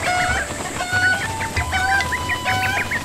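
Cucco chickens in the Zelda: Breath of the Wild video game, clucking repeatedly in quick, overlapping bursts close by over a steady low background hum, with no talk.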